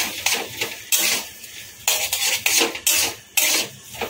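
Taro leaves (kochu shak) being stirred in a pan with a utensil, giving repeated close scraping and clattering strokes in an uneven rhythm with a faint sizzle between them.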